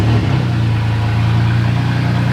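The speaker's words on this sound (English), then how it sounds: "So I'm gonna start it up. It's gonna be loud, folks. There's no exhaust on here." A Toyota Tacoma truck engine with no exhaust fitted, loud and close, settling into a steady, deep droning run just after starting.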